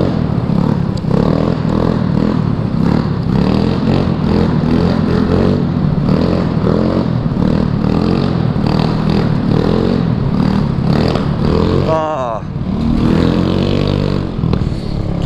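A fast scooter climbs a parking garage ramp while the rider holds a wheelie, giving a loud, steady motor roar with wind rush and a sharp rising whine near the end.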